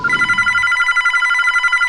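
A telephone bell rings in a fast, continuous electronic trill, loud and close, with a low rumble fading out underneath at the start and no talking.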